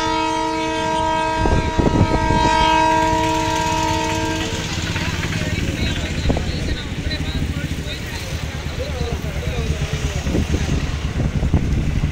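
A locomotive's horn blares briefly, then the heavy, steady rumble and clatter of a train rolling past close by on a trial run across the new Pamban Bridge, with voices underneath.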